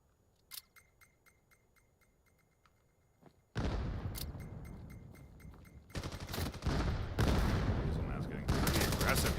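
Gunfire in the VR shooter VAIL during a competitive match: sparse faint cracks at first, then a sudden loud, dense stretch of rapid shots and bursts that builds and continues to the end.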